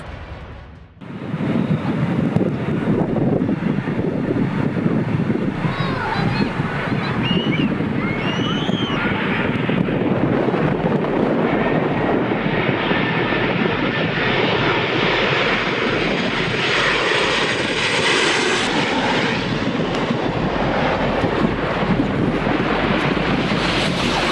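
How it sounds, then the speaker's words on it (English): A loud, sustained roar of airplane engines blended with gusting wind noise, swelling after a brief quiet start and staying constant throughout. "The sound of airplanes mixed with the wind often creates a scene that is both tense and majestic."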